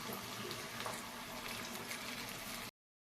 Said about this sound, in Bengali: আমি এখানে 1/2 কাপ মতন জল দেব।